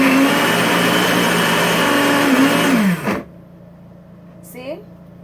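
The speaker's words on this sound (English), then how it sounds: "I just loaded the blender with everything in it" Blender running loaded with celery for juice, a loud steady motor whir that slows and cuts off about three seconds in, followed by quiet room sound and a brief clatter.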